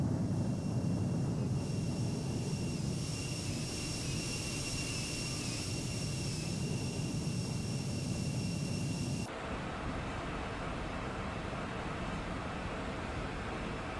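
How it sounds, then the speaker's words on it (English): Embraer E175 jet engines in cruise in the X-Plane 12 flight simulator make a steady, broad cabin roar with a faint high whine, unbroken for the whole stretch and changing tone abruptly partway through, with no voices. "I'll just leave a little montage of the airplane in cruise"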